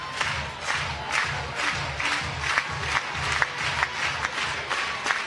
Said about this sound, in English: Crowd comes to life.